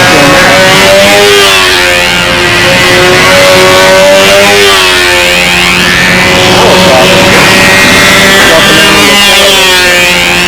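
A control-line Brodak Cardinal model airplane's small glow engine runs loud and close, a steady high buzzing whine that wavers in pitch as it revs and settles, with a voice talking faintly underneath.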